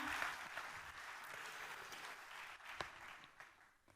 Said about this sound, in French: Des applaudissements pour Stéphanie.